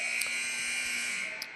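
Sustained electronic buzzer tone at a varsity boys high school basketball game between Creekside and Ponte Vedra, holding steady for the whole moment over faint gym background.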